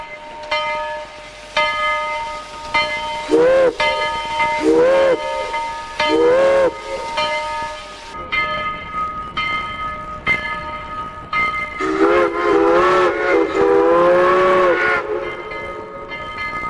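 A steam locomotive in Winnipeg, a train bought around the turn of the century and still in running order, sounds its whistle. Loud, harmonic blasts come repeatedly, some short and some long, with the engine running underneath.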